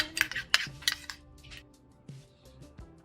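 Homemade papaya paste being stirred together with an exfoliant in a small dish, giving a few sharp clinks and scrapes of a utensil against the container near the start, then softer intermittent stirring.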